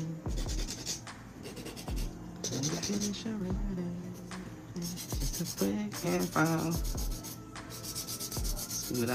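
A long acrylic nail is hand filed with an emery board, giving steady close scratchy rubbing strokes in a brisk repeated rhythm, with a voice talking throughout.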